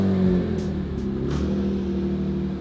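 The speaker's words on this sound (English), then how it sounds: "Give it a few revs." Engine of a rebuilt BMW E46 M3 idling with a low, steady drone and a couple of light throttle blips, close and fairly loud throughout.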